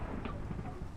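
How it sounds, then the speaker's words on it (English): A Minecraft thunderstorm rolls on as a steady, low, dull rumble with a rain-like hiss, constant and fairly faint throughout, with no talk. "Skip the thunderstorm."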